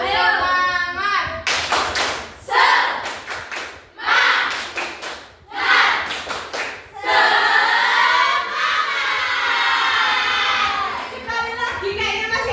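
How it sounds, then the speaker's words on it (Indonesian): Second-grade schoolchildren in a classroom clap out the rhythmic tepuk semangat chant, with bursts of sharp claps alternating with shouted voices and a teacher speaking between rounds. "Ayo, tepuk semangat."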